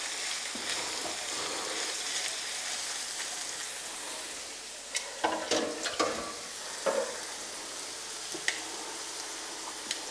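Onions sizzle steadily in a frying pan as carrot is added, a constant crackling hiss broken near the middle by a few sharper clatters and stirring knocks.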